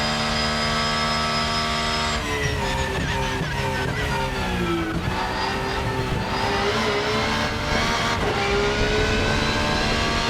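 A BMW race car engine in the Rennsport video game screams near the top of its rev range, holding steady high harmonics before shifting and climbing again through repeated pitch rises and flattening peaks, loud and continuous without talk.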